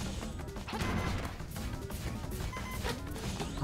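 A boss in the video game Zelda: Link's Awakening pounds the ground with dense, heavy crashing impacts that rumble continuously at close range, with no voices over them.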